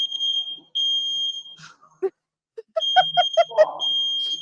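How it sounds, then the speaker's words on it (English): Smoke alarm in a kitchen during cooking shrills in long piercing beeps that stop briefly and resume, with people talking and a dog yapping in between and underneath. "And if you can hear that, that is the fire alarm."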